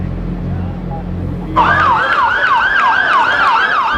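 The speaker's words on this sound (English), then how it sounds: "One after the next, ambulances raced over St. Vincent's Hospital" An ambulance siren suddenly starts wailing nearby on a New York City street, rising and falling in a fast repeating pattern over a rumbling engine.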